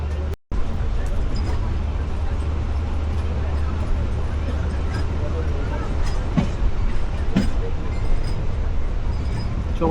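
Onboard the Ekota Express in Bangladesh as it pulls away from a station, a steady low rumble of the train on the rails fills the carriage, scattered with occasional metallic clinks and a faint background babble of passengers.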